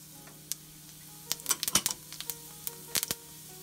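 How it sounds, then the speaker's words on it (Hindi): Ajwain and cumin seeds sizzle quietly in hot oil in a pan, a faint hiss punctuated by scattered sharp pops and clicks, clustered in short bursts; no voices. "अब एक पैन में हम ऑयल डालेंगे अब हम अजवाइन डालेंगे सबसे पहले जीरा डालेंगे"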